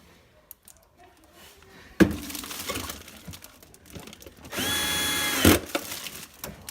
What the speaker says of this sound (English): this is a Milwaukee 12-volt drill that I'm using here